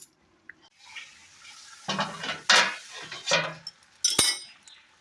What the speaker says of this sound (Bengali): গ্যাসের ফ্লেমটা বন্ধ করে দিন আর এটা ঢাকা চাপা দিয়ে রেখে দেবো